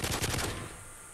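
Gunfire in a Call of Duty Kill Confirmed match on the Hardhat map: a quick, fairly faint rattle of shots in the first half second, then a fading tail of noise.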